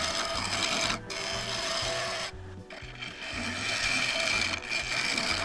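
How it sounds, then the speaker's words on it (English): A woodturning tool being sharpened, likely on a grinder, giving a steady close rasping grind with brief dips and pauses in between. "I've just gone for a little quick sharpen there"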